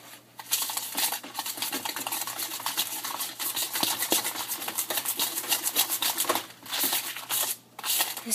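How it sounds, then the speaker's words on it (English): A utensil stirs food in a pot with a rapid, continuous rhythm of scraping and sloshing, close and busy, with brief pauses near the end. "This stuff you gotta stir good."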